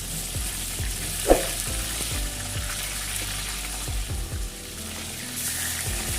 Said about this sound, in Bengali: দেখুন মাছগুলো লাল লাল করে ভেজে এবার আমি এগুলো তুলে নেব।